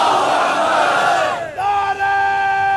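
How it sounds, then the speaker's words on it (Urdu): A crowd at a Shia majlis gathering in Lahore shouts religious slogans in unison, a loud sustained roar of many voices that drops briefly then swells again. "اب میں آپ کے ساتھ نعرے مارتا ہوں, آپ کی آواز کم از کم رائے گڑھ تک جانی چاہیے"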